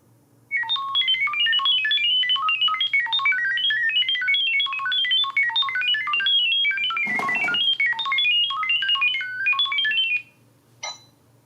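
A rapid, warbling sequence of electronic beeps and chirps from a BabyTone wireless indoor security camera during setup plays for about ten seconds, with a short burst of noise midway and a final brief tone.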